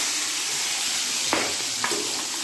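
Garlic cloves and chopped onion fry in hot oil in a pan for spinach dal bhaji, giving a steady, even sizzle with a couple of brief louder spits; no one talks.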